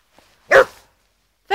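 A border collie gives one sharp, loud bark close by, and a second bark begins just as the sound ends.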